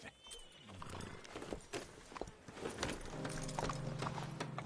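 Horse hooves clip-clop at a steady pace in the Western video game Red Dead Redemption 2, clear and fairly close over outdoor ambience, with a low sustained tone entering partway through.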